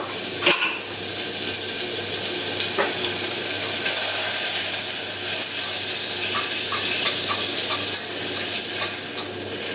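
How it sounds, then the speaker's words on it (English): Butter melting in a pan over medium-high heat for a béchamel white sauce: a steady, close sizzle and crackle that carries on throughout, with a few faint clinks. "we are going to melt the butter in a medium-high heat"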